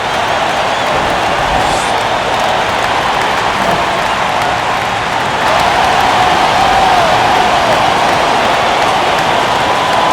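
Arena crowd noise from an Oklahoma City Thunder home game in NBA 2K19, a steady broadband roar of cheering that swells slightly midway, continuous and fairly loud with no clear talk over it.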